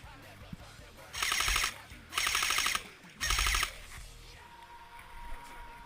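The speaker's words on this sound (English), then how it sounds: "I'll do the full auto shooting." An SRC Fighting Cat airsoft gun fires three sharp full-auto bursts, each roughly half a second long with brief gaps between, loud and close.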